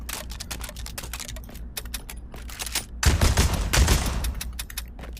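Rapid bursts of Spas 12 shotgun fire in the Pavlov VR game, a quick run of sharp close reports that swell into a louder, denser volley partway through, with no one speaking.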